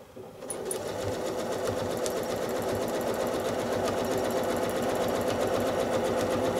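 A sewing machine stitches circles and spirals on a quilt block, starting up and then running in a steady, fast, loud mechanical whir that holds at an even pace without pause.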